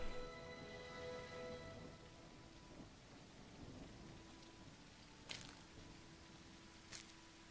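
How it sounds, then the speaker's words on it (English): Steady rain pours in the video game Cauldron Chronicles, a dense continuous patter with a low rumbling undertone and a couple of brief sharper crackles, no one speaking. "Oh, it's raining."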